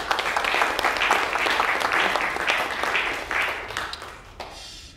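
Congregation applauding at a church's tenth-anniversary thanksgiving service, a dense, steady clapping that fills the room for about four seconds, then thins and fades out.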